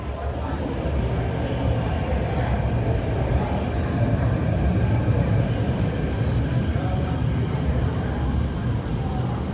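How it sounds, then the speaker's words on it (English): A subway train rumbles steadily through Prince Edward Station at rush hour, a continuous loud low roar of wheels and motors filling the platform without a break. "More rush hour trains and more C trains."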